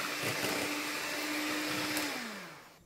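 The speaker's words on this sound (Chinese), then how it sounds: "用打蛋器打发奶油，打发至5、6发即可" An electric whisk whips light cream with sugar in a bowl, a steady high whirring drone that holds for a couple of seconds, then slows and winds down, with no talk.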